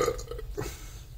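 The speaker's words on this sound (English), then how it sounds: "Or you can make yourself burp." A single short human burp, fairly quiet and close, with a brief wet gurgle and no talking.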